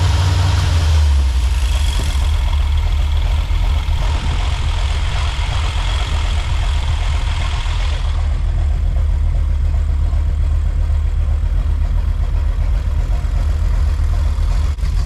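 A carbureted 350 engine in a 1984 Chevy Silverado runs steadily at close range, a continuous low rumble holding even throughout with no talking.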